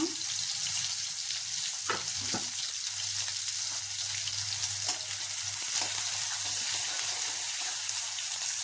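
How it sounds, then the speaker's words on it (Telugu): Chopped onions and green chillies fry in a pan for a simple dal rasam, giving a steady, close sizzle with occasional clinks and stirring scrapes throughout, with no voice. "కట్ చేసి పెట్టుకున్న ఉల్లిపాయ పచ్చిమిరకాయలు ఫ్రై చేసుకున్నా"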